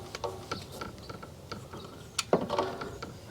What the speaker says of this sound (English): This is a 12mm crow's foot on the torque wrench